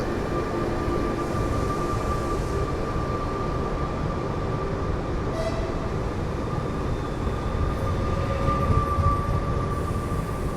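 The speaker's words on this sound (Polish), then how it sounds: "Elf kolei śląskich z pociągiem osobowym z Gliwic do Częstochowy." A Koleje Śląskie Elf passenger train runs from Gliwice to Częstochowy past the Katowice area, making a steady, loud, continuous rumble with a faint high whine that holds for the whole stretch and never fades away.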